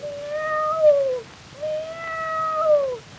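A male singer imitates a cat's meow in a 1916 song recording, giving two long, sliding, nasal meows, each about a second and a half, in a clear voice.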